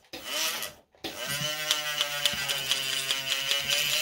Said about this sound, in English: Now I'm going to change from a 360 grit sandpaper to a 600 grit.